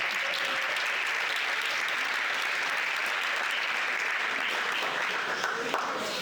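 Audience applause fills a hall at an integration bee competition, steady and dense from start to finish, with no voices rising above the clapping.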